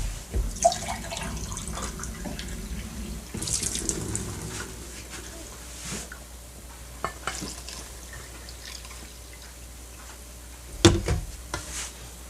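Exactly 250 ml of water poured into dry pizza dough ingredients for a deep pan New York style pizza, a faint splashing and trickling followed by a few soft clinks and stirring sounds.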